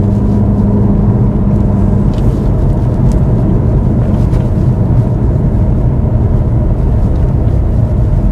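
A dark coloured car passes on a narrow single-track road with passing places, heard as a continuous low rumble of engine and road noise at close range, alone with no talk.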